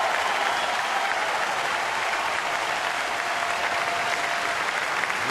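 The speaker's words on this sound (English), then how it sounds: "Listen to the crowd." A baseball stadium crowd roars and applauds after a pitcher's tenth strikeout, a steady wall of cheering and clapping at constant loudness with no pauses.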